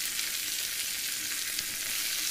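Mixed vegetables with brinjal, tomato, amaranth and boiled peas frying for an onion-free curry, a dense, bright, continuous sizzle held steady and close.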